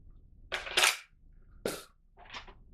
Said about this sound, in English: Rival guns, loud, very loud.